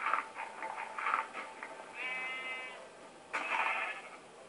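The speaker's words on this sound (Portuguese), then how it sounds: "Ovelha." Sheep in Minecraft bleating several times in short wavering calls, fairly close and alone with no talk over them.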